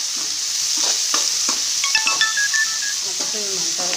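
Onion and chopped green chillies fry in a pan with a little salt, giving a constant bright sizzle while a spoon scrapes and taps against the pan, and a few thin electronic beeps ring out briefly.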